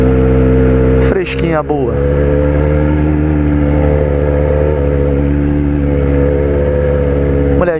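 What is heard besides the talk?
Yamaha XJ6 motorcycle engine revving with exhaust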